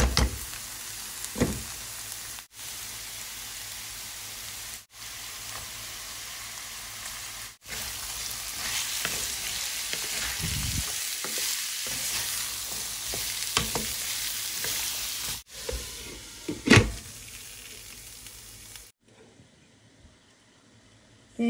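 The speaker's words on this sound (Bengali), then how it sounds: "আর এখন আলু ভাজি করবো।" Potatoes and carrots sizzle and are stirred in hot oil with onions browning in a pan, a steady dense frying hiss with scraping stirs, broken by brief pauses and trailing off into near silence at the end.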